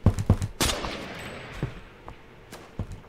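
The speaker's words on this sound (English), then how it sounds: "Are you guys, like, shooting at me" Gunfire in the Roblox game Phantom Forces: a quick cluster of sharp shots up front, then scattered single reports and distant pops trailing off, fairly faint overall and without talk.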